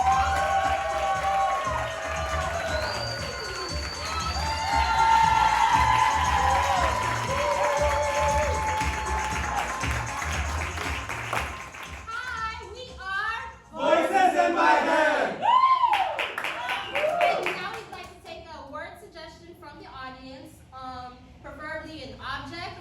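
Comedy show audience cheering, whooping and clapping, a loud crowd roar that swells and fades, with a host's voice speaking over the noise near the start and people talking afterward.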